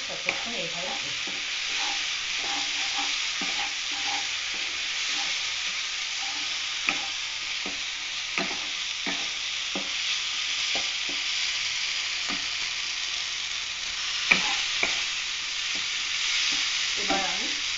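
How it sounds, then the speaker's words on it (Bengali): A spice paste (masala) fries in oil as it is stirred, giving a soft, steady sizzle with scattered spoon scrapes and taps against the pan and no talk. "এইভাবে একটু মশলাটাকে আমি কষতে নেবো, যতক্ষণ মশলাটা তেল থেকে নাম খাচ্ছি ততক্ষণ এইভাবে করছি"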